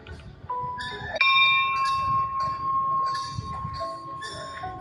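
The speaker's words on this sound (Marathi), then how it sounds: "घंटा आहे." A temple bell in a Hanuman shrine in Dahivali village is struck once, ringing out with a sharp metallic clang and a long sustained hum that rings on for several seconds over the low murmur of the surroundings.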